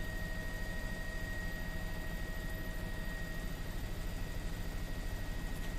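The KCRA Live Copter 3 news helicopter in flight over the American River, a constant low engine and rotor drone with faint steady whine, heard from inside the cabin, unbroken and even.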